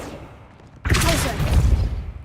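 Depulso spell cast in the video game Hogwarts Legacy: a sudden loud burst erupts after a quiet stretch, followed by a crackling, rumbling wash of noise that rolls on to the end.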